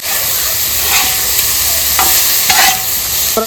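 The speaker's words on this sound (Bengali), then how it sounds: "এটাকে একটু ভালো করে ভেজে নিই, তারপরে পেঁয়াজ কলিটা দেবো।" Ingredients for chowmein frying in a pan, a loud close sizzle running throughout with a few brief scrapes of stirring.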